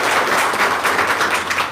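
An audience claps hands together in a brief burst of steady, close applause.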